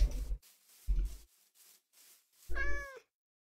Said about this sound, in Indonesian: Ada suara kucing, serius.